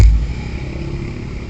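A Lalamove rider's motorcycle engine idles and pulls away, a steady close rumble with a low throbbing pulse and no voices over it.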